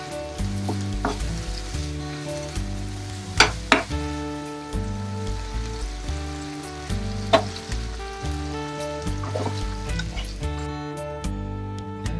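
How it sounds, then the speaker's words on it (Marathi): Amul butter and a little oil sizzle steadily in a hot pan, a close, continuous frying crackle with occasional sharper pops and a low rhythmic background hum, no voices. "पॅन गरम झालेला आहे. त्यात मी अमूल बटर टाकलेलं आहे आणि थोडंसं तेल."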